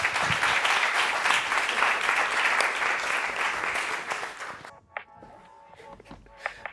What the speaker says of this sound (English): Could you please, big round of applause for the debate.